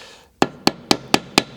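A hammer strikes a folded 14 oz denim hem to flatten it before sewing on a Union Special 43200G hemming machine: six sharp, evenly spaced close-up blows in quick succession, with no talk.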